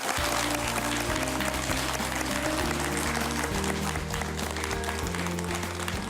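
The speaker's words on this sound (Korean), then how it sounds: "큰 박수 부탁드리겠습니다" Audience applause at the close of a televised lecture segment, heard as a steady wash of clapping throughout, loud and continuous, with a sustained musical bed running underneath.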